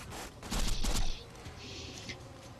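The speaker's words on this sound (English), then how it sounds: "Now I will shoot him with that." Weapon fire in the video game Borderlands 2: a short, faint burst of shots early on, followed by softer game noise and a brief later crackle, all quiet overall.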